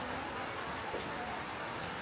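Rain falls steadily on an open-air market in Vietnam, a dense, even hiss with no let-up and no voices.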